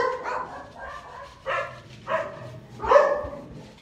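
Dogs bark next door in a series of sharp, fairly close barks, about four bursts spaced unevenly with small yips between them and no talk over them.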